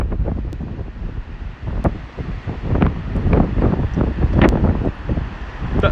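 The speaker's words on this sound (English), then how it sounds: "It's very rainy and windy." Heavy wind and rain on a London street, with strong gusts buffeting the microphone in a loud, uneven roar and scattered sharp taps from the rain.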